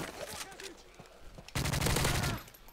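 Enemy gunfire in a shooter game, a loud sustained burst of rapid automatic shots about a second long following quieter scattered game sounds, with a voice speaking before it.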